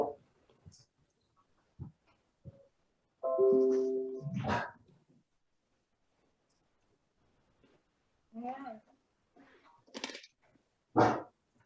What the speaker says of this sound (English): since my dog is barking at neighbors